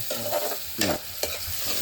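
Onions and tomatoes sizzle in hot oil in a home kitchen pan while being stirred, giving a close, steady frying hiss broken by several scraping strokes of a spoon.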